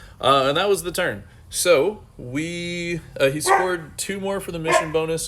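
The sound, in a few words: dog barking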